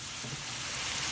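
Spices roasting in oil for chana pulao, a soft even sizzle that holds steady and fairly faint throughout a brief moment, with no speech.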